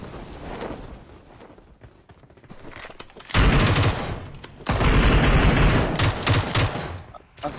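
Rapid bursts of automatic gunfire in PUBG Mobile, with faint game ambience at first, then two loud sustained volleys of dense shots up close, and some talk underneath.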